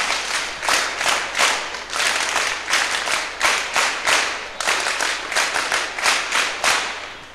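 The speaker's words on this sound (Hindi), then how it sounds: "इसके लिए बहुत जोर से तालियां" An audience claps loudly in rhythmic unison, a steady beat of sharp claps pulsing in regular waves, with no voices over it.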